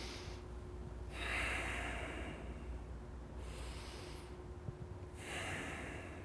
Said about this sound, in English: Now I use what's called an ujjayi breath.